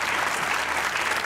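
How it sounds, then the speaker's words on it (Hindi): A talk-show studio audience breaks into thick, continuous applause during an interview with an actress, close and loud for the whole moment. "तालियां होनी चाहिए।"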